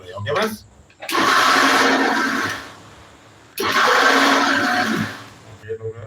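A kitchen mixer grinder whirs loudly while blending pizza sauce, running in two sustained bursts of a few seconds each with a pause between, and short bits of talk before and after.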